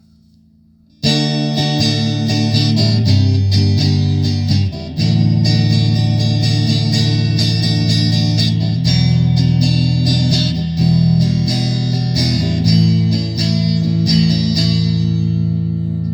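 A distorted electric guitar on its neck pickup plays a crunchy, warm riff with sustained chords and notes, loud and continuous after a brief quiet start.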